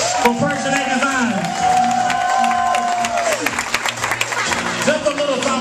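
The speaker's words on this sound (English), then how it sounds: "Y'all can clap a little bit louder than that." Audience at a fashion show clapping and cheering, a steady crowd applause running underneath a loud voice speaking over it throughout.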